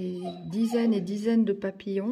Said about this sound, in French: désolée pour mon chien